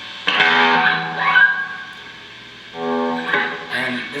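Distorted electric guitar playing an intro, with a few loud, sustained chords that ring out and fade, played alone.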